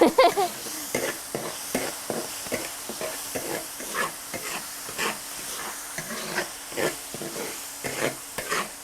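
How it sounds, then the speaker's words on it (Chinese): Minced pork with pickled beans is stir-fried in a wok: a steady hissing sizzle broken by rhythmic scraping strokes of the spatula, close and moderately loud. "炒香之后，把酸酱豆倒进去"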